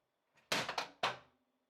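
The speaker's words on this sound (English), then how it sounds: "you can open the print door" The polycarbonate print door of a Prusa Core One+ 3D printer swings open with a soft scrape followed by a quick double clatter and a final plastic thunk, close up and fairly loud, with no talking.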